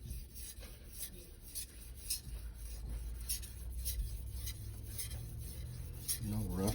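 A knife blade rubbed back and forth on the 1000 grit side of a Naniwa multi-stone whetstone, repeated gritty scraping strokes at close range with a faint high whine and low background hum.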